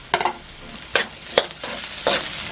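Ginger dropped into a hot pan, a kawali, sizzles and crackles in several sharp bursts, with stirring scrapes between them, up close and fairly loud.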